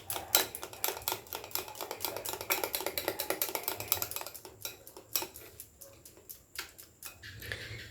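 Baking soda and baking powder mixed in a bowl for an eggless carrot cake: rapid, close clicking and scraping strokes against the bowl that thin out and slow toward the end.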